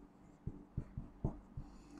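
A pen or marker writes an algebraic expression, giving five or six short taps and strokes in an uneven rhythm, close and quiet.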